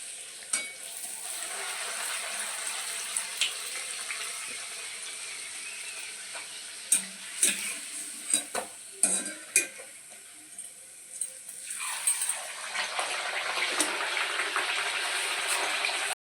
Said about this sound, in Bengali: এদিকে দেখো লুচিটা ভাজা হচ্ছে